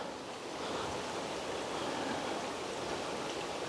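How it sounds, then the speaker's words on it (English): Steady rush of a small mountain creek flowing in the Bighole Mountains, a continuous broadband wash of water at moderate level with no voices or breaks. "That pretty little creek."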